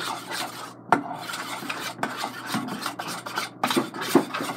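Glitter being stirred into slime in a container, a close, raspy rubbing and scraping repeated in roughly once-per-second strokes with sticky clicks between.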